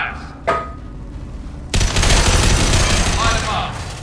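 Sustained automatic gunfire against Geth in Mass Effect 2 Legendary Edition: a sharp shot near the start, then from about halfway a dense, loud, continuous burst of rapid fire that carries to the end.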